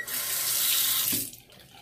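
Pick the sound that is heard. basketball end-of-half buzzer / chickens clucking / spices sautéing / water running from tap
water running from tap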